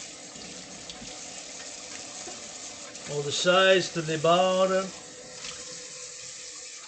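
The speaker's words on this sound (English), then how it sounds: "The sink as well with soap and water." Tap water runs into a sink as it is washed with soap and a sponge during a budget cooking event in Montreal, a steady splashing hiss with a voice speaking briefly over it.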